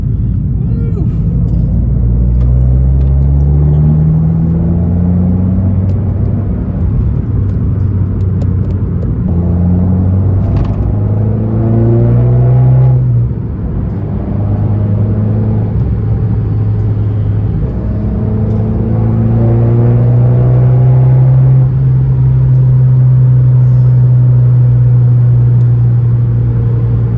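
Abarth 595 with a catback exhaust pulls hard under acceleration, the engine note rising through gears in long sweeps with brief drops at shifts, loud and close, with a voice briefly heard over it.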